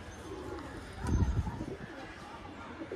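Pigeons in a pigeon shop coo softly, with a low rolling coo about a second in amid quiet room background.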